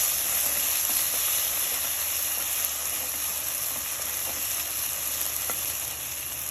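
Fish curry masala sautés in sesame oil for a Tamil meen kuzhambu, holding a loud, steady, close sizzle with faint stirring ticks.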